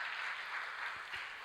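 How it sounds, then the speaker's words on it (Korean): Applause from a church congregation at a Friday evening worship service, a faint, steady wash of clapping that stays even throughout with no voices on top. "박수 한번 부탁드립니다."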